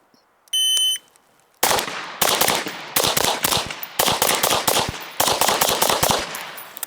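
An electronic timer beep starts a pistol drill, then five rapid strings of sharp, loud handgun shots fired across targets ring out close by, with short pauses between the strings.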